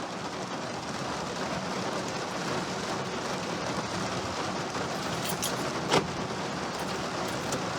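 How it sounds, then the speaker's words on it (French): Steady heavy downpour during a violent August thunderstorm, a dense continuous roar of rain on surfaces with a brief sharper crack near the end; no voices. "alors là par contre c'est le déluge"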